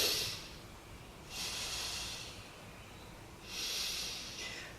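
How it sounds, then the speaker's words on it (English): Deep, slow yoga breaths fill the space, three long airy inhales and exhales rising and falling in a steady rhythm, close and clear with no talking. "Take 3 breaths here."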